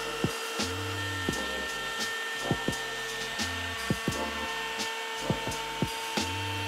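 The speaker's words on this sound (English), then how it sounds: "I say a little prayer before I turn on the router, then slowly and carefully make the cuts." A handheld router cuts binding channels around the edge of an acoustic guitar body, its motor whine rising and falling in repeated passes with short pauses and sharp wood-chip ticks, close and steady with no talk.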